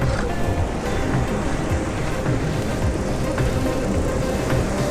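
Rough sea surf along a beach at Kapil Beach near the Varkala cliff roars in a dense, constant wash of crashing water, loud and close, with some wind buffeting the microphone.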